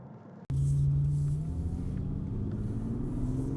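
A 2017 Bentley Continental GT Speed Convertible Black Edition driving in sport mode, its engine starting suddenly as a loud steady rumble that holds and slowly rises in pitch, close and continuous with no talking.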